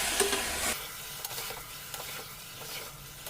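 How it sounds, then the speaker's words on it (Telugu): Mutton pieces stirred and tossed in a hot pan, a steady close sizzle broken by scraping stirs, with a louder burst of frying at the very start before settling into continuous crackle. "మటనేసాం కదా ఒకసారి బాగా కలుపుతాం"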